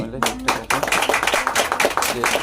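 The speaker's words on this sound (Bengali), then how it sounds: "হাততালি" Quick irregular hand clapping from a small group celebrating a fourth wedding anniversary cake-cutting at home, steady and close, mixed with people talking.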